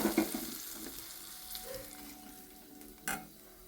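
Mustard seeds spluttering in hot oil for a curry tempering, a quiet crackle with sharp scattered pops and a few light utensil clinks.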